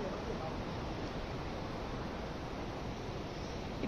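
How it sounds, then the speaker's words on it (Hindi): A river flows below the road to Gangotri in Uttarakhand's Harsil Valley, heard as a steady, dense, broadband rush of water that holds constant throughout without any breaks. "इतनी तेज पानी की आवाज़ आ रही है"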